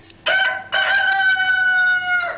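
A cockerel crows loudly and close, one long sustained call after a short opening note, with no other sounds.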